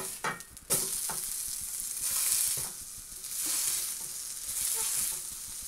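A homemade beef burger sizzles steadily in a cheap new frying pan, with a constant bright hiss broken by a few sharp spatula scrapes and clatters near the start.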